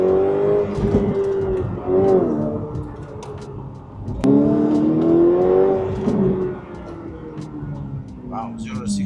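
A Ferrari F8 Tributo's engine rises in pitch as the car accelerates hard, a steady loud whine with a second surge midway, speech heard over it.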